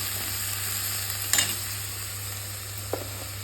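Prawns fry in hot oil with a continuous close sizzle over a low steady hum, broken by a brief louder crackle and a small clink of stirring. No one speaks.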